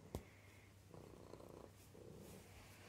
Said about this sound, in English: What are you purring at?